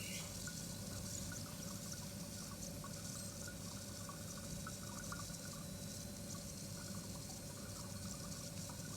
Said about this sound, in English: Make sure to rinse the flask using cold water and continue filtration.